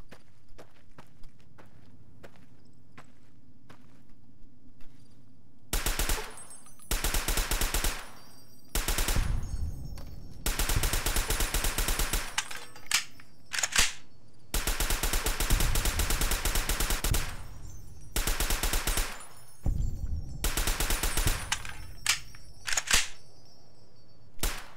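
Gunfire in Fallout New Vegas comes as repeated loud, rapid automatic bursts of varying length, separated by short gaps with scattered single clicks and light footsteps.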